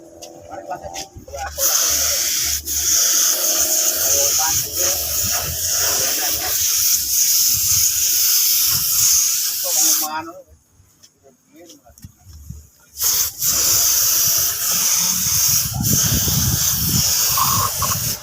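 Steady hissing bursts from a spray gun painting a motorcycle at a roadside, loud and close, broken by a short quiet pause before spraying resumes.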